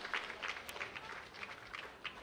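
An audience at the opening of the 46th Sabasaba international trade fair applauds an award winner with a continuous, fairly faint wash of clapping throughout, with no voices.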